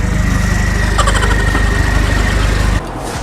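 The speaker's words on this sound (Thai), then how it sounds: "เสียงโหดมากเสียงโหดมากระดับเครื่องเลยพี่" An Isuzu D-Max pickup with a fully modified engine at a fuel station runs loud and close with a fast, rumbling idle pulse, briefly revved in the middle before the sound drops sharply near the end.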